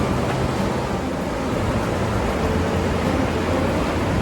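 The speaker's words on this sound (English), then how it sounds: "And we have a river flowing here, because the rain just stopped." A muddy, milky river swollen after rain rushes steadily near Takakkaw Falls in a British Columbia national park, a loud and even broadband roar with no voices.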